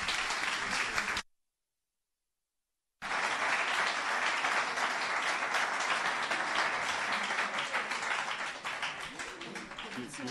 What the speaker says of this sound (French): Et sous un tonnerre d'applaudissements, M. Théophile Obenga, s'il vous plaît.